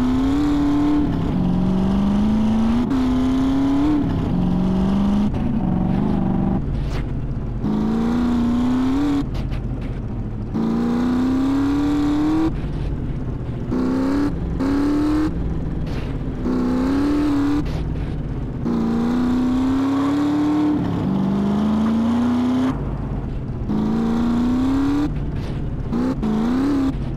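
Car driving in GTA San Andreas, a loud, close engine droning and rising in repeated revving surges as the vehicle accelerates and shifts, continuous for the whole stretch.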